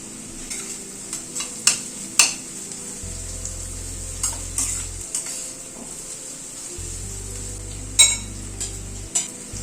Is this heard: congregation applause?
no